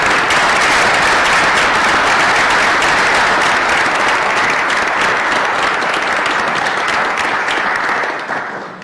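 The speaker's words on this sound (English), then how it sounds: "for the round of applause" A large audience at a University of Wisconsin System Board of Regents meeting claps in dense, sustained applause that holds loud and even for several seconds before tapering off at the end.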